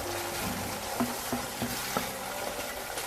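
Meat stock simmers with masala in a cooking pan, giving a steady, gentle sizzle and bubbling hiss broken by a few soft clinks of stirring.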